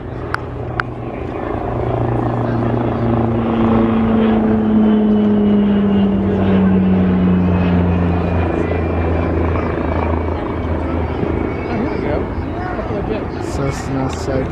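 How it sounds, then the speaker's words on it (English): A Beechcraft King Air turboprop passes overhead during a corporate aircraft flyover in Washington DC, a loud droning propeller roar that rises and then falls in pitch as it goes by, with people talking faintly nearby. "Think that's King Air coming."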